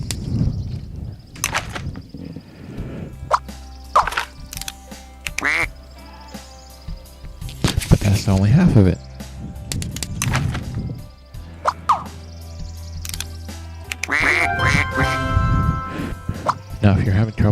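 A cartoon duck in Scribblenauts Unlimited quacks several times after a duck call sounds. The quacks come in short bursts mixed with thunks, plops and game effects, and someone talks over and between them.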